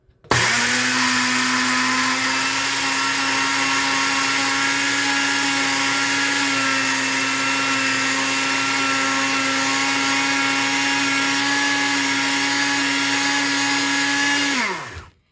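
A blender grinding flaxseed for flaxseed bread, a loud, steady high motor whine running continuously for about fourteen seconds, then cutting off abruptly.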